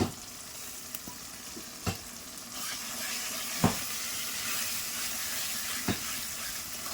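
Ground spice paste of ginger, garlic, cumin, coriander, fennel, dried chilli and onion sizzles steadily in hot oil in a pan for chicken, with a few sharp clinks and scrapes of a spoon breaking through the continuous frying hiss.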